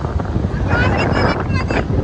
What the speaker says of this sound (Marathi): आता इथे खूप वारा चालू आहे